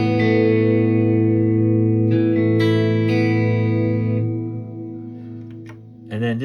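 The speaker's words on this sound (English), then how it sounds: "this is a reverb. That's big reverb." Guitar played through a big reverb effect on a Boss GX-100 processor: sustained distorted chords ring out with a long smeared wash, then decay before a fresh strum near the end.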